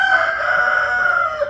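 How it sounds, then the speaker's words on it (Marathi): A rooster on a village dairy farm crows one long, loud, close cock-a-doodle-doo at morning that fills the whole moment, with no talk. "कोंबडा आरवलाय म्हणजे सकाळ झाली आहे."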